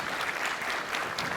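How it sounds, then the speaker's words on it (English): A brief burst of audience applause at a Bitcoin conference open source stage, dense clapping at a moderate, fairly distant level. "So I think we should give him a round of applause if we can."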